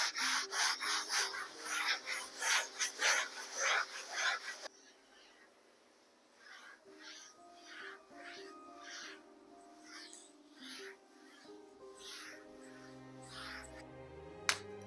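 A sanding pad rubs across a painted coffee table in rhythmic back-and-forth strokes, loud and close at first, then softer and more scattered.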